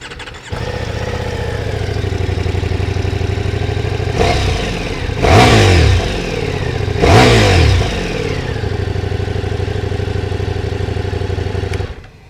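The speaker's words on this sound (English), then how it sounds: "let me start the bike" A Ducati Diavel V4 motorcycle engine fires up and settles into a loud, close idle, broken by two sharp throttle blips that rev up and fall back before it shuts off near the end.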